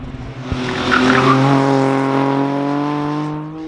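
A race car passes on the track during preseason practice at the Modlin circuit, its engine a loud sustained droning tone that swells and holds, with a tire squeal rising over it.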